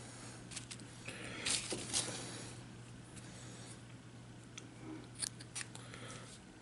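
Scissors snip through 28-gauge nichrome wire during a dual parallel coil build on a Fishbone Plus RDA, giving a few short, quiet clicks over a steady low hum.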